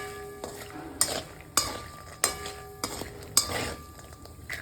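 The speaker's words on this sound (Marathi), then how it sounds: "हे बदाम तळते, जायफळ आणि विलायची." Almonds, nutmeg and cardamom fry in a pan while a spoon stirs them, giving five or six sharp, regular scraping knocks over a soft, steady sizzle.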